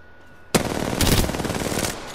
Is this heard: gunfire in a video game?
yes